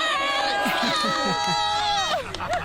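An excited street crowd cheers and shouts at a sports celebration, with loud sustained voices and whoops, close and continuous, with a brief dip near the end.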